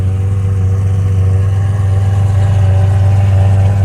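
A Lamborghini Aventador SVJ engine runs at a cars and coffee meet, a loud, steady, deep rumble with a strong low drone held throughout, close and unbroken.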